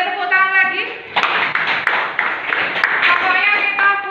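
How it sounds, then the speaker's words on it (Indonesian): Classroom students break into a brief burst of hand clapping, a couple of seconds of mixed claps between stretches of a teacher's voice talking before and after. "boleh tepuk tangan lagi?"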